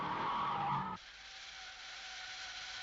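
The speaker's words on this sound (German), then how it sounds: "Selbst bei schneller Kurvenfahrt auf nassem Kopfsteinpflaster verhält sich das Fahrzeug spurtreu und richtungsstabil." Tires of a Mercedes-Benz W126 S-Class skid through a fast slalom on wet cobblestones, a loud broadband screech lasting about a second before cutting off to a low steady drone.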